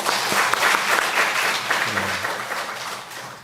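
A church congregation at Sunday service applauds in praise, a steady wash of many hands clapping close and full, with a faint voice briefly underneath.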